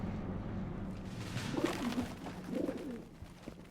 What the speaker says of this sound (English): Those damn birds make noise.